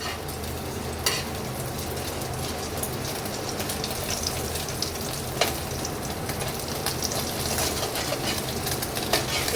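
Two eggs frying together in a pan, a steady low sizzle and crackle with a few sharp pops, heard alone without talk.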